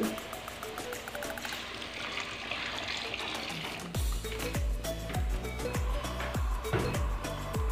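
Water runs from a tap with a steady hiss, then turns to splashing and bubbly drips as it fills a container.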